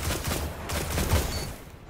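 Gunfire crackles through a video game match in a dense, sustained volley of shots at moderate loudness, with faint game noise underneath.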